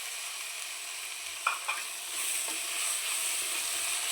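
Tomatoes and curry leaves sizzling in a frying pan as they are stirred, a soft steady hiss with two quick scrapes of the spoon, then the frying swells louder.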